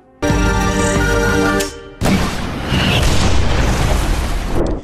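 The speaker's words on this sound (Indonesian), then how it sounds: "Hippo menembakkan peluncur roket ke dada Scout Unit 22" A rocket launcher fires at a robot in the film Chappie: a loud sustained roar breaks off, then a heavy boom and crashing explosion follow and rumble on for a few seconds, close and dominant.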